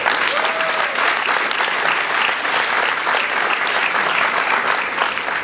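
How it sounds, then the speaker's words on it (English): A large crowd at an event honouring the Global Sumud Flotilla leadership breaks into sustained, even applause. The clapping is loud and full throughout, with a faint voice or two underneath. "Let us give them a round of applause."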